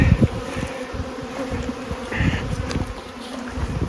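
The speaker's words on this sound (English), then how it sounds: "There's bees going into this hive" Dense, steady buzzing of many honeybees close by at a hive, a constant droning hum with occasional louder passes near the microphone.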